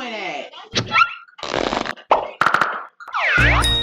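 Cartoonish fart effects and boing-like sounds play in a Jackbox party video game, a rapid series of short, pitch-bending bursts separated by brief gaps.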